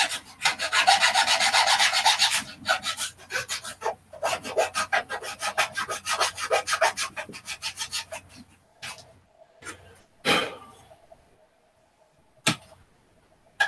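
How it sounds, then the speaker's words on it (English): Sawing 3/32 light plywood by hand: rapid rasping back-and-forth strokes close up, loud at first, then thinning into sparser strokes and a few isolated scrapes before quiet. "I love sawing plywood."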